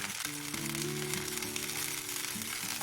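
Portobello mushrooms laid in a hot frying pan sizzle steadily in a dense, even hiss at close range. A few faint tonal clinks sit beneath the sizzle, and no one speaks.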